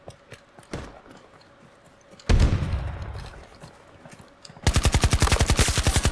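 AK rifle fired in an online shooter game, a sudden loud single shot, then a long rolling report, ending in a fast rattling automatic burst of evenly spaced rounds, close and loud.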